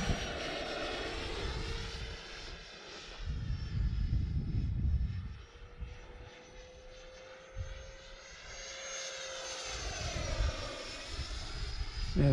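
E-flite F-16 Thunderbird RC jet flying in gusty wind, a steady whining engine tone that rises and falls as it passes, heard at moderate distance with wind buffeting.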